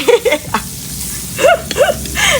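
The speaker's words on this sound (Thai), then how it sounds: "เอาเนยมันหอมก่อนนะ เนยมันละลายใช่ไหม ให้เนยมันละลาย" Butter sizzles and crackles as it melts in a hot pan before eggs are added, a soft steady hiss with a few brief tonal squeaks on top, close by.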